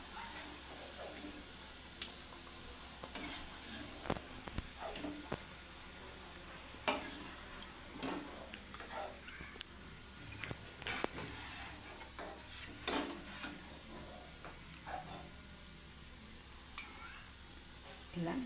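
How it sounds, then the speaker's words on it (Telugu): Wheat flour sweet biscuits fry in oil, a soft steady sizzle with scattered ticks and stirring clatters, moderately faint and without talk. "మంచిగా వేగాలి. బాగా వేగితేనే క్రిస్పీగా బాగుంటాయి."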